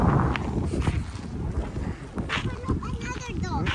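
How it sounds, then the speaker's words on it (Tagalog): Gusty wind buffets the microphone with a low rumbling roar in a Saskatoon city park, while a voice speaks briefly in the background. "Medyo malakas lang ang hangin, ano? Windy day."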